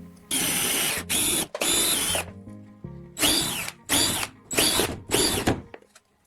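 A power drill boring holes in a plastic bottle that catches the debris: several loud, close whirring bursts of one to two seconds each, separated by short pauses, with no voices.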